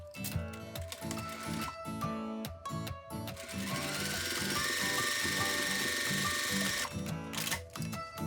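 A sewing machine runs a line of stitching along the folded edge of an apron pocket, with a fast mechanical chatter that starts and stops, then holds a long, steady run before slowing to a halt.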